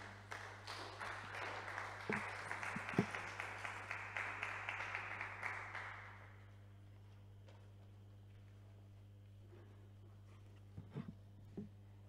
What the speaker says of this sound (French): Nous allons l'accueillir sous vos acclamations, s'il vous plaît